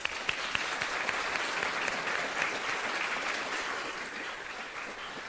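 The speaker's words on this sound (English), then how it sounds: "we applaud this year's deserving winners" Applause for the winners fills the hall at the 2025 Atlantic Book Awards gala, a large audience clapping steadily at moderate distance, easing slightly toward the end with no talking.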